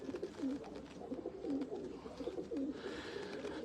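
A Jansari hen pigeon from Faisalabad in a breeder's loft gives repeated soft cooing calls in a steady rhythm, close and fairly quiet, with no talking.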